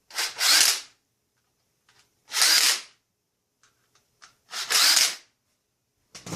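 A power tool drives bolts on the door of a 1995-1999 Nissan Maxima during window motor work, sounding three short, loud whirring bursts separated by quiet gaps and faint clicks.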